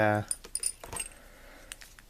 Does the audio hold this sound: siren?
no